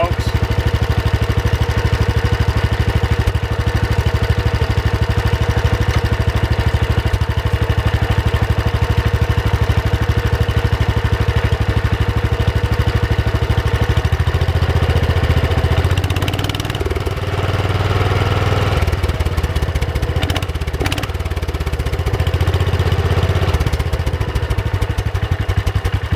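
A Kohler engine on a garden tractor idling steadily right after startup, a loud, close, continuous chugging drone with a slight rhythmic clatter that wavers a little toward the end.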